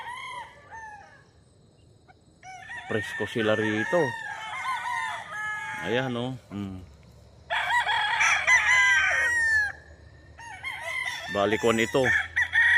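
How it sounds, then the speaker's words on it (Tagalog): Roosters at a chicken farm in Guerrero, Bauang, La Union crow repeatedly in long strained calls, several birds near and far, with a person speaking briefly between crows. "Farm ng mga chicken dito sa Guerrero."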